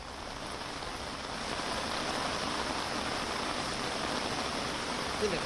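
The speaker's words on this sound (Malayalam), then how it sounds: "അതിശക്തമായ ഒരു കുത്തൊഴുക്കാണ് ഇപ്പോൾ ഇവിടെ സംഭവിച്ചുകൊണ്ടിരിക്കുന്നത്" A strong rushing current of water released from the Idukki dam roars as a steady, broadband wash that swells slightly louder after the first couple of seconds, heard at a distance and fairly faint.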